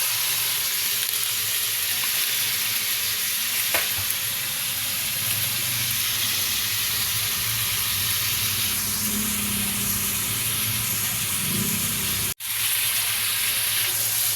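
Bottle gourd (upo) sizzles in a hot pan with a loud, constant, close hiss that runs unbroken throughout, cutting off for an instant near the end.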